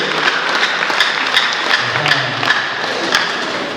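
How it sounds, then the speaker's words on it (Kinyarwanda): Wedding guests at a church vow ceremony break into dense, sustained clapping that fills the room, with a few soft thumps mixed into the steady applause and no talking. "Amashyi menshi nawe arabyemeye."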